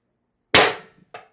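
Beeman BP50 CO2 carbine with a 16-inch barrel and suppressor firing a single sharp, close shot, followed by two short faint mechanical clicks.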